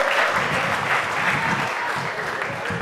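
Steady applause from an audience at a university gas challenge quiz competition, reacting to round-two scores; loud, dense clapping holds evenly for about three seconds with no talk over it.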